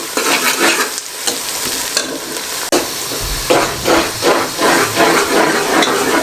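Chopped onions fry in a hot pan for a restaurant-style mixed vegetable dish, a steady close sizzle broken by repeated scraping strokes of stirring, with no talking.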